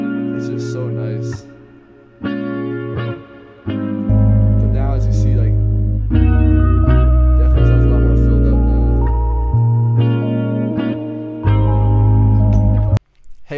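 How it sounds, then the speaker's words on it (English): A mellow Steve Lacy and Brent Faiyaz style beat built in Ableton and FL Studio plays loud and bass-heavy, washed in a long-tailed reverb, with brief dropouts and a sudden cut near the end. "It's just like this crazy long-tailed reverb."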